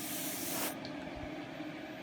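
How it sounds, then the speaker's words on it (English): Compressed air duster can sprays a steady hiss, used to blow dust off before a shoot, with a loud broadband burst that cuts off after about three quarters of a second, leaving quiet background. "So I always run a little can of dust off."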